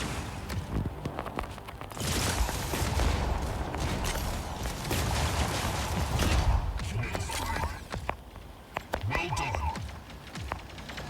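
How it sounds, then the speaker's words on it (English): Chain gun and grav beam weapons firing in the Mech Arena robot combat game, dense bursts of rapid gunfire with mechanical clanks running through most of the stretch, loud and continuous, easing off near the end into scattered shots. "Chain gun and grav beam."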